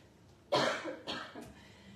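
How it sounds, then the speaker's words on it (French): Three harsh coughs close by: a long heavy one, then two shorter ones in quick succession, with quiet in between. "je suis désolée, je vais tousser beaucoup"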